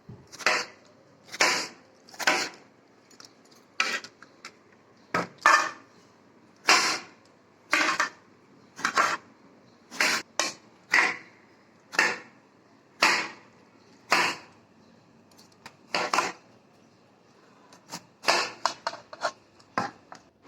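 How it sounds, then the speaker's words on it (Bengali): Peeled bottle gourd is chopped into small pieces with a knife, giving dozens of crisp, close thuds on a cutting board in an uneven but steady rhythm, with quicker bursts near the end. "লাউ থেকে খোসা ছাড়ানোর পর আমরা লাউগুলোকে ছোট ছোট পিস করে কেটে নিব"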